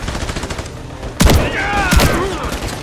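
Turret gunfire in Call of Duty Modern Warfare 3, a low rumbling volley before sharp, loud bursts of shots around the middle, with booming impacts and ringing game effects trailing after.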